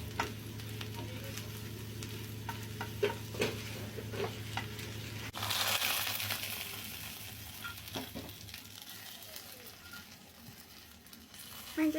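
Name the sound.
cumin sizzling in a hot pan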